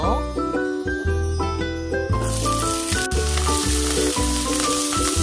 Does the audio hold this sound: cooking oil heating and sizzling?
yes